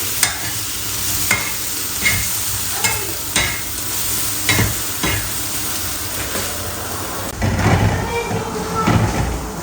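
Softened, salted garden tomatoes for thecha are stirred and pressed in a pan, with repeated sharp spatula scrapes and knocks over a low sizzle, growing busier and louder near the end.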